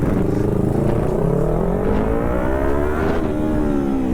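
Two Kawasaki ZX-10R motorcycles racing in a drag race, with loud, continuous, close engine roar and rising revs as they pull through the gears together.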